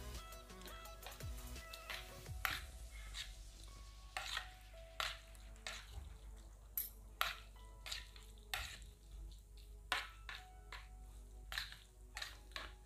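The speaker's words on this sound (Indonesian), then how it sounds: "ini aku masaknya mie sedap Indomie ya, aku aduk-aduk aja teman-teman" Indomie Mie Sedap instant noodles being stirred in a pan while cooking, with a steady low simmer and a series of sharp, repeated utensil clicks and scrapes spaced irregularly throughout, fairly quiet and with no talking.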